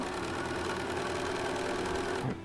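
A sewing machine runs steadily, stitching a quarter Dresden plate quilt piece, a continuous close mechanical whir with a fast needle rhythm that stops abruptly near the end.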